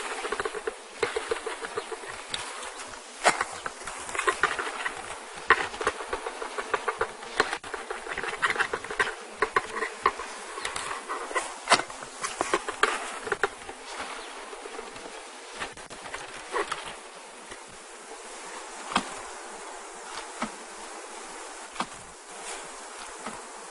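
A package of honeybees is shaken out over a caged queen, a soft continuous buzz of many bees broken by frequent light patters and thumps as the box is bounced.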